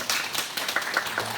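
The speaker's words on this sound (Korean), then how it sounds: "환영하면서 박수 한번 하겠습니다." A church congregation claps together in welcome during a Sunday service, a brief, dense burst of applause from many hands nearby.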